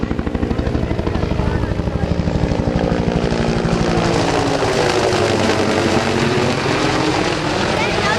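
An AH-1 Cobra attack helicopter with twin gas turbine engines departs at an air show, its rotor chop and turbine roar loud and steady with a pulsing beat throughout, a faint voice underneath.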